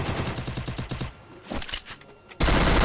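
A Double Vector gun fires in the Free Fire video game: a rapid, loud burst of automatic shots, a brief lull with a few scattered reports, then another dense, heavy volley.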